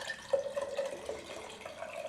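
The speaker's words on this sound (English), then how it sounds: "we're going to go ahead and pour that Phillips juice first through the sieve" Juice from a Philips micro juicer is poured through a sieve, making a quiet, close trickle and light dripping for a couple of seconds.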